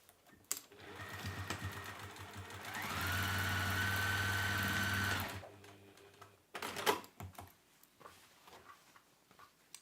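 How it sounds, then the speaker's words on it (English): A sewing machine stitching closed a fabric turning gap runs steadily for a couple of seconds with a humming motor whine, framed by faint handling clicks and fabric rustles before and after, close and moderately quiet. "Let's sew up that turning through gap."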